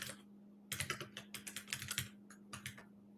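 Quick bursts of keystrokes clatter on a computer keyboard, a brief pause opening the sequence and a shorter flurry closing it, close and fairly quiet over a faint steady hum.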